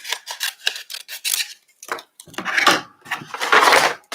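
Scissors snip through card paper for a shutter fold card, a string of quick close cuts followed by louder, longer slicing strokes.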